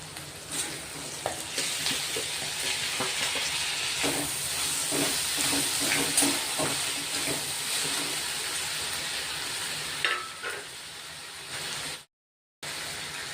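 Onions and tomatoes frying in oil with cinnamon give a steady close sizzling hiss that runs continuously, with small crackles and stirring scrapes scattered through, before a brief drop to silence near the end.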